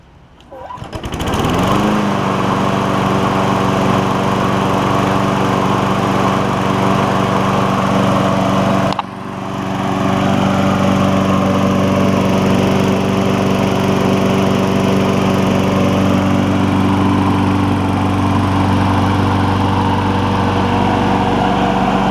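A Craftsman push lawn mower engine pulls to life and runs at a loud, steady high-pitched drone up close, with a brief dip midway before resuming its constant hum.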